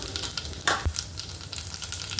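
Cumin seeds crackle in hot oil for a tempering made with capsicum and onion: a steady close sizzle with a sharper burst as the seeds hit the oil, then a settled hiss with no talk.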